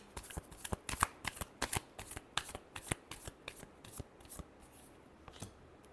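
A deck of tarot cards gets a final quick shuffle, heard as a few seconds of faint, close, rhythmic card flicks and slaps, with no voice.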